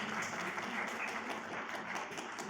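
An audience at an indoor celebration event applauds in a dense, steady patter of many hands clapping at once, held at moderate loudness for a couple of seconds.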